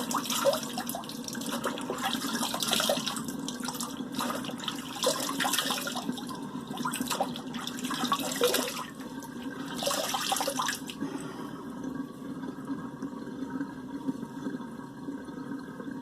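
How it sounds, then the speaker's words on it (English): Water drains out of a bathroom sink after a wet shave, with a gurgling, rushing flow that swells in several bursts before thinning to a faint trickle, close by with no talk. "let's let this water out"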